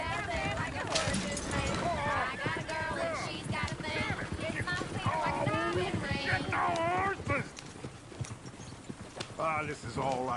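Horse hooves clip-clop at a walking pace in the Red Dead Redemption 2 video game. The hoofbeats sit quietly under a lot of in-game character dialogue.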